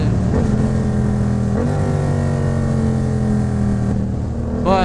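A close Yamaha MT-07 motorcycle with a cheap aftermarket exhaust idles with a low, throaty exhaust rumble, rising briefly in pitch as the throttle is blipped, then settling again.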